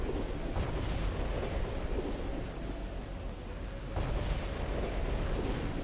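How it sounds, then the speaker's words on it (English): Motherwell's giant cannons fire in Armored Core 4 Answer, producing a continuous deep, thunderous roar with heavy booming surges, loud and rumbling throughout. "try and avoid Motherwell's giant cannons"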